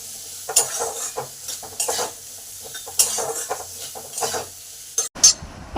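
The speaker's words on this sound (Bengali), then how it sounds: "নুন হলুদটা ভালো করে আলু গায়ে মাখিয়ে" Potatoes being stirred in a pan with salt and turmeric, a soft scraping stir repeating in bursts every second or so, close by, with no talk.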